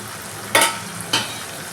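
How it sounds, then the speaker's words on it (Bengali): Catfish curry being stirred in a frying pan after cumin and coriander powder go in, with steady close sizzling broken by two brief louder scraping strokes of the spatula. "এটাকে জিরে গুঁড়ো আর ধনে গুঁড়োটাকে ভালো করে মিশিয়ে নিতে হবে।"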